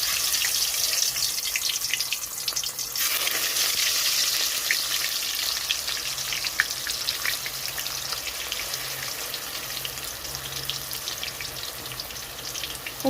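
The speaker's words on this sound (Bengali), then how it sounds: "এখানে তেলটা গরম হয়ে গেছে, তো এখানে আমি ছেড়ে দিচ্ছি কলাগুলো ভাজার জন্য" Banana slices sizzle and crackle as they fry in hot white oil for banana chips, a steady, dense hiss that holds evenly throughout with no talking.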